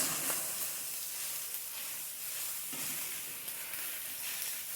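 Chicken apple sausages hiss and sizzle steadily in a hot pan with melted Parmesan, a soft continuous frying crackle with a few brighter spits, close and unbroken, no voices.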